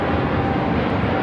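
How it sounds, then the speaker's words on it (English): A United Airlines Boeing 787-9 Dreamliner takes off from LAX for Denver, heard as a brief burst of dense, steady, low engine roar with no break and no voices. "This is United Airlines 1260 taking off to Denver, Colorado on a 787-9 Dreamliner."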